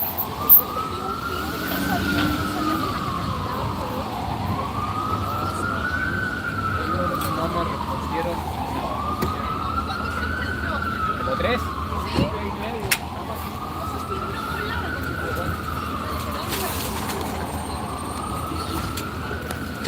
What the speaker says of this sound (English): Now a real ambulance is coming.